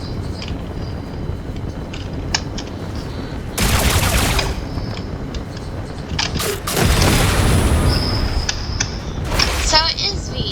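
Bombs drop and explode in the building game Trailmakers, with two loud booming blasts and crackling bursts rising over a constant rumbling engine-like drone.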